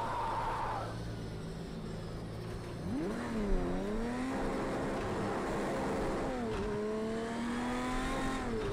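Race car engine in the video game Project Cars 2 with a sequential gearbox, revving up through several gears with audible shifts and drops in pitch, played fairly quietly in the background.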